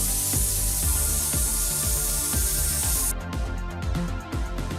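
Spray gun laying gray urethane primer onto a car bumper cover, a steady loud hiss that cuts off sharply partway through, leaving a quieter background.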